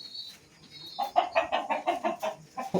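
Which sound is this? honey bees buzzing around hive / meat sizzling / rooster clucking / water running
rooster clucking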